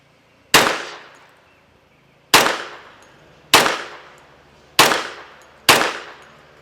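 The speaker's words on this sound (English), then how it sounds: "5 shots to the body from a distance of 25 yards" A Mech Tech CCU carbine conversion handgun firing five 230 grain JHP rounds on an outdoor range, five loud, sharp reports spaced about a second apart, each followed by a short decaying echo.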